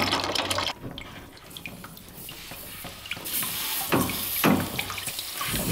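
Tap water rushing steadily through newly installed multilayer plumbing being flushed, a loud close splashing flow that surges and gurgles as it fills a container.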